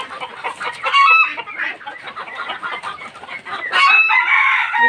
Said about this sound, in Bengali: এগুলো সব মুরগি।